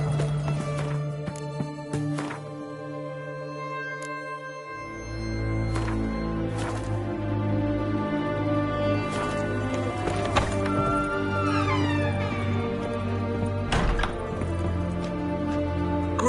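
In The Witcher video game, Geralt's horse Roach gallops with steady, rhythmic clip-clop hoofbeats over a game music score, and a brief whinny rises near the end.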